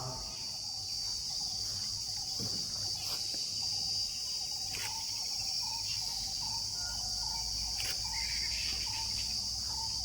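Crickets chirp in a dense, steady high-pitched chorus outdoors in nature, with a few faint bird calls scattered over it and no voices.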